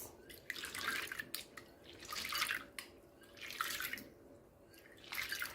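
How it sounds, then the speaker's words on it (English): Soaked chickpeas being washed by hand in a bowl of water, with irregular bursts of swishing and sloshing separated by short pauses, fairly quiet and close. "Wash at least 3 times in this water."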